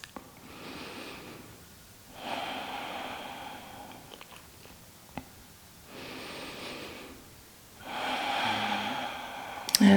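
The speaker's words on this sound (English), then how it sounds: "Taking some nice smooth breaths." Slow, smooth breathing during a bedtime stretching routine, close and soft: long airy inhales and exhales alternating in an even rhythm, about four breaths, with no talking.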